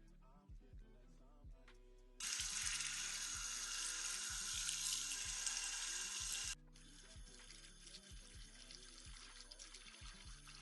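Running water from a tap rushes loudly for a few seconds while Brazilian curly hair bundles are co-washed with conditioner, then stops, with background music and a voice talking throughout.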